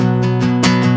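Guitar strumming the chorus of a song, loud and close, with several rhythmic chord strokes ringing over sustained tones in about a second.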